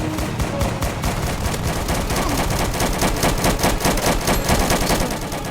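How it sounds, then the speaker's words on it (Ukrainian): Rapid, repeated tank gunfire bursts in a Battlefield Tycoon game battle, loud and continuous, with dense booming shots layered over one another. "Один танк стріляє, подиви."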